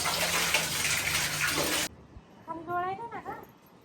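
Water gushes loudly and steadily while a bedsheet is washed, then stops abruptly after about two seconds. A voice then speaks briefly in a quieter room.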